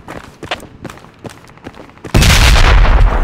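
In Project Reality, scattered gunshots and thuds lead into a sudden loud grenade explosion that roars with a sustained rumble to the end.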